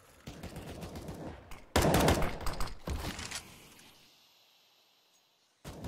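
Gunfire in the video game CS:GO on the Inferno map during a competitive match, dense bursts of rapid automatic shots, loud and close, fading out before a final burst.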